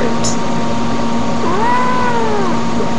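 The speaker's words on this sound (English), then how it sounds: "If he goes to the windowsill and he sees birds, he just starts meowing like really, really loud." A cat meows loudly and close in one long, drawn-out rising and falling cry over a steady indoor hum.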